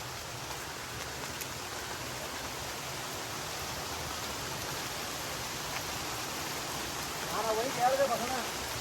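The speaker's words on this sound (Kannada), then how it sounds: "ಚಿಟಪಟ ಅಂತ ಮಳೆ ಹಿಡ್ಕೊಂಡು" Steady monsoon rain pattering down on the route from Kallathigiri Falls to Kemmangundi, a constant dense hiss that holds evenly throughout, with a brief louder rustle near the end.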